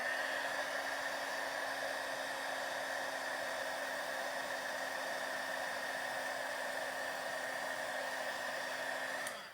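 A heat tool blows steadily and loudly close by as it melts copper embossing powder on a card, a constant whirring hiss with a faint tonal hum that holds unbroken for nearly ten seconds.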